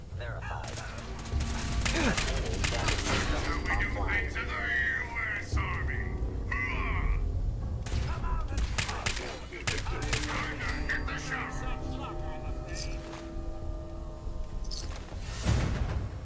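Turret gunfire in Fallout 4, with clattering bursts of shots and mechanical rattling mixed with game noise, plus a voice talking intermittently over the action.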